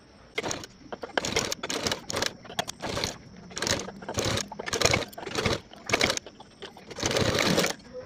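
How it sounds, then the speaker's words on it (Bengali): Short bursts of a sewing machine stitching a blouse collar, rapid chattering runs that start and stop repeatedly, close-up and fairly quiet between bursts. "এবার কিন্তু আমি কলার সেলাই করে নেব।"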